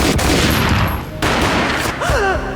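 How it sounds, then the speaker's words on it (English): Gunfire in the video game Max Payne, loud, dense shots with a sharp cut partway through, then a brief tonal game sound near the end. "A gunshot boomed and she fell down in slow motion"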